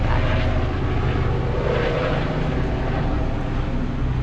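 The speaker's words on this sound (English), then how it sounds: "Helicopter's back." A helicopter flies overhead in the Adams Morgan neighborhood of Washington DC, its loud, steady rotor and engine drone filling the street for the whole span.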